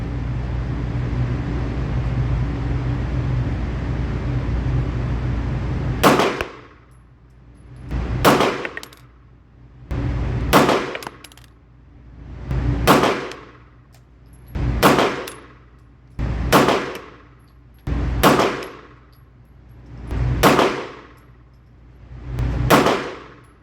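A Staccato P pistol fires nine evenly spaced shots at a green steel target, each sharp crack followed by a ringing metallic clang that decays before the next, after a stretch of steady background noise.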